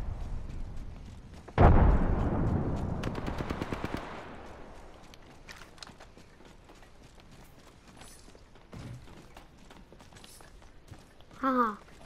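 Video game combat with a grenade explosion, a loud sudden boom that decays slowly, rapid automatic gunfire overlapping it, then scattered shots and impacts at moderate loudness.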